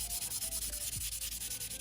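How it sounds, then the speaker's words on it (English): Steady rhythmic scrubbing of a 400 grit sanding sponge over the plastic body of a 1/24 scale BMW M4 model car kit, close and continuous, with quick back-and-forth strokes and no voices. "I'm just going to go over the entire body with a 400 grit sanding sponge"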